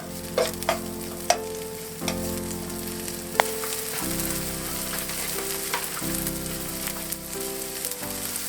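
Food sizzles in a frying pan while a goulash pasta dish is cooked. A continuous crackling fry runs throughout, with occasional clicks and scrapes and no talking.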